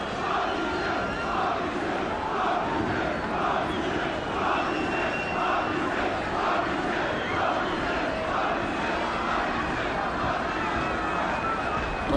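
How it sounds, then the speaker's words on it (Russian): Torpedo and CSKA football fans in a stadium trade rhythmic chants across the ground, a dense, steady, distant crowd roar with pulsing repeated calls and no pauses. "Болельщики Торпедо и ЦСКА перекликиваются друг с другом."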